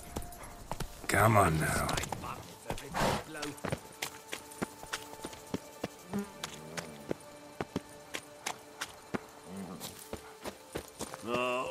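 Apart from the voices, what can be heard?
horse Roach galloping in video game The Witcher 3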